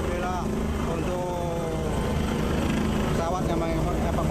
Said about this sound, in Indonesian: pesawat yang mengevakuasi Bapak Kapolda telah landing di lapangan KONI.